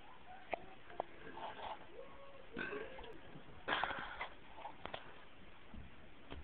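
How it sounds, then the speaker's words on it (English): A woman burps on command, producing several short, close eructations with one longer, louder burp in the middle, spaced by brief quiet gaps. "Burping on Command"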